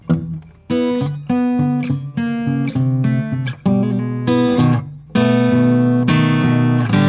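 An acoustic blues guitar plays a turnaround in triplets, with a run of plucked notes and chords ringing clearly, solo and close.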